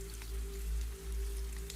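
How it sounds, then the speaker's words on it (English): Steady rain patters on a greenhouse roof in a soft, continuous wash of scattered drops, fairly quiet and unbroken, with a low steady hum beneath and no voices. "rain continues its steady rhythm against the greenhouse roof"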